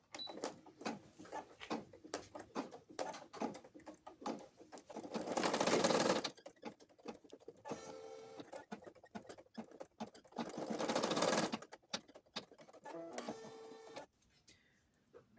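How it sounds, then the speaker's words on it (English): An embroidery machine stitches ear placement lines for a cloth doll, rapid mechanical needle chatter in repeated bursts, with louder whirring stretches and brief pauses between runs. "Now I will do the placement stitches for the ears."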